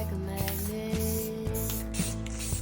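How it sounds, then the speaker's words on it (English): A can of smoky beige spray paint hisses steadily while it lays down a base coat on a crock, a loud continuous spray broken by brief pulses, with no talk. "I'm going to be using 2 different spray paints, starting with smoky beige as my base coat."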